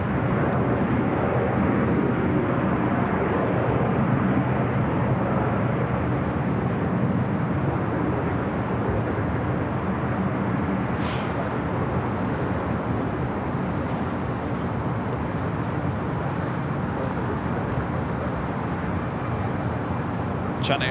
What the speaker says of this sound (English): the Lufthansa Queen heading back to Frankfurt, the 747-8 Intercontinental, Flight 457 starting a taxi